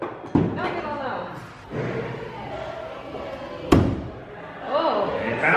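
A thrown axe strikes a wooden target at an axe-throwing venue with two sharp thuds, one early and one later, amid crowd noise, cheering and talk.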